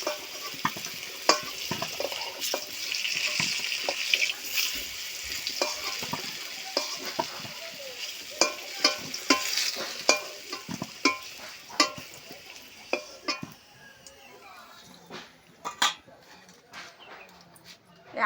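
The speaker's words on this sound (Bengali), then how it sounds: "আলু ভালো করে ভেজে নিয়েছি" Fried potatoes crackle and hiss in hot oil while a spatula scrapes and taps against the pan repeatedly, the sizzle fading somewhat toward the end; faint voices are audible in the background.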